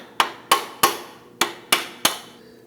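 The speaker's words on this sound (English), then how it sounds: "Then I'm gonna use my hammer" A hammer taps a replacement front ball joint into place on a 2001-2009 Volvo S60, six sharp metallic strikes spaced about half a second apart, with a pause after the third, close and clear with no talking.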